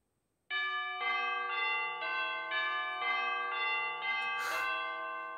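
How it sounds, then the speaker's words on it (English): Tubular bells close an orchestral track, a series of about nine bright, ringing metallic strikes in a steady rhythm, each overlapping the last's sustained tones, ending with a brief crash-like accent. "And the tubular bells right at the end"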